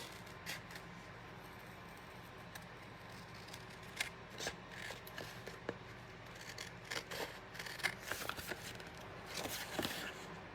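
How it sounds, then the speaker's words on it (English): Quiet, repeated scissor snips cutting through paper, a steady series of small crisp cuts with brief rustling between them. "let's take some scissors here and we're going to snip it all the way around"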